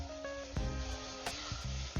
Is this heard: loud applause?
no